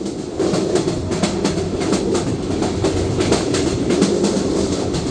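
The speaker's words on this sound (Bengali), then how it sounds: "কত শত মাঠ পেরিয়ে ট্রেনটি ছুটে চলেছে তার আপন গন্তব্যে" A Burimari Express (809) passenger train runs along the tracks in Bangladesh between Dhaka and Lalmonirhat, with a steady near rumble and a regular clickety-clack of wheels over rail joints throughout.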